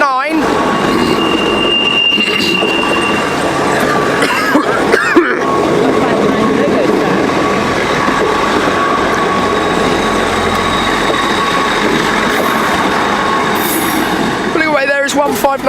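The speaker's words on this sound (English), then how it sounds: "Pulling away there is 159007 in its South Western Railway livery." A South Western Railway class 159 diesel unit, number 159007, pulls away from London Waterloo, a steady engine rumble with wheel squeal and rail noise filling the platform, and a person speaks over it.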